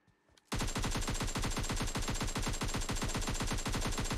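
PUBG Mobile gunfire erupts after a brief quiet moment, a loud sustained burst of rapid automatic shots in a steady rhythm that runs continuously to the end.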